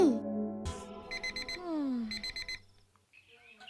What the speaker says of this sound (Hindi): जी, अलार्म बज रहा है